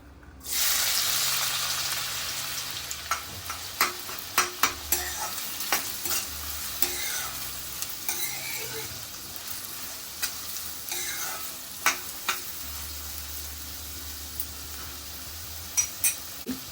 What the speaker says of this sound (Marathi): मी त्या तेलामध्ये आपण कांदा तळूया कांदा घालायचा आहे त्या तेलामध्ये